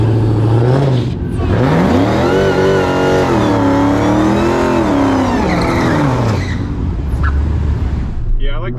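A high-horsepower drag car accelerates hard at a drag racing event. The engine roars loud and close, its pitch climbing and wavering for several seconds before easing off.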